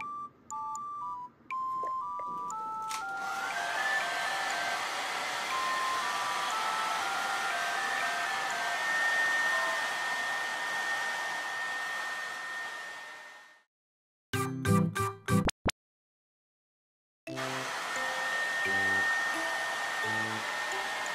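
A hair dryer running loud and steady with a constant whirring hum and high whine for several seconds, then cutting off abruptly, followed by short electronic beeps and its whir returning.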